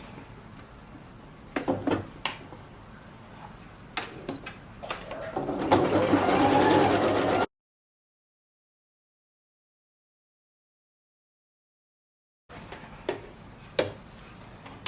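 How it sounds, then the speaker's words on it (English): A domestic sewing machine stitches along a seam edge in a steady burst after a few clicks and knocks, then silence, then more scattered handling sounds. "you place the edge here on your sewing machine, and then you stitch"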